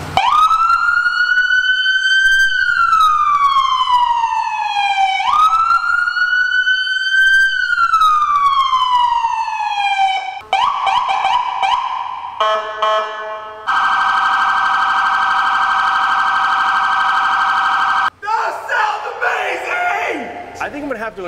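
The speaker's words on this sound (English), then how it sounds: "All right, time to turn on those sirens." Police sirens on a custom Jeep Gladiator 4x4 police car: loud rising-and-falling wails, then a quick yelp pattern, a steady piercing tone and a final burst of blaring siren, all close and dominant.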